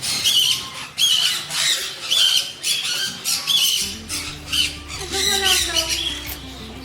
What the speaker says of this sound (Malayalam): പെറ്റ് പാർക്കിൽ കയറുമ്പോൾ തന്നെ ആദ്യം കാണുന്നത് ഈ തത്തകളെയാണ്.